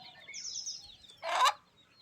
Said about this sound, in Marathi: एकाच कोंबडीमागं एवढे पिल्लं